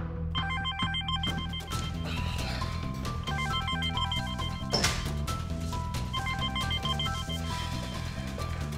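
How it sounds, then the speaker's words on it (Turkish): A telephone rings indoors in repeated bursts of bright electronic tones, steady and fairly loud throughout, with a dense layer of other sound behind it. "telefon çalıyor, getirir misin bana?"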